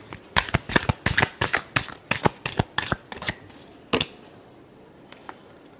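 A tarot deck is shuffled close up in a run of about a dozen crisp, evenly spaced riffling bursts, then a final slap and near quiet, with no talking.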